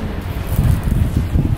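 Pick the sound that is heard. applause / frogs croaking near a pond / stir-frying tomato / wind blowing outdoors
wind blowing outdoors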